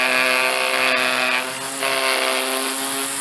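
A Black + Decker LST201 20V cordless string trimmer with a 10-inch head, cutting grass at close range. It gives a steady, loud high-pitched motor whine with a line buzz that dips briefly midway and then resumes.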